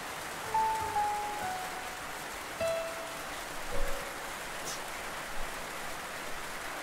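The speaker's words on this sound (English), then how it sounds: "Raining. Where did this come from?" Rain falling outdoors makes a steady, soft hiss throughout, with faint bird calls and a few small knocks on top.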